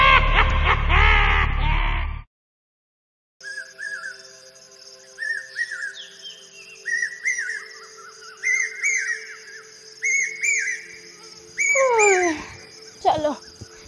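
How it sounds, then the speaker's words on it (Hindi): Hungry puppies whimper and whine in a run of high, thin cries that rise and fall in short repeated bursts, close and fairly loud, after a brief loud noise at the start. "हमारी कुतिया के पिल्ला भूखे मरे।"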